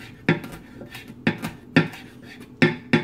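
A knife chops fresh thyme sprigs on a cutting board in five sharp, separate knocks at an uneven pace, close and crisp with quiet gaps between strikes.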